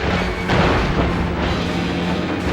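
Explosion from the PS2 game Stuntman Ignition, filming the Strike Force Omega movie during a vehicle stunt run: a loud, dense blast and rumble that stays heavy and continuous for the full length.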